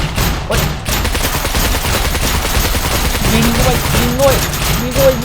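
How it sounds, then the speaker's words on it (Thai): Rapid bursts of gunfire in the survival video game SCUM fill the scene continuously, loud and dense, with a voice talking excitedly over the shots. "โดนยิงแล้วโดนยิงแล้ว"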